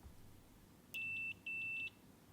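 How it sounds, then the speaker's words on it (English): Multimeter set to continuity mode, testing terminals of a real truck gear shifter, giving two short high-pitched beeps in quick succession, clear and isolated against a quiet background. "We can check and confirm the correct terminals by setting a multimeter to test continuity"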